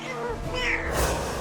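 A cat gives a single drawn-out meow, close and fairly loud, in an animated story.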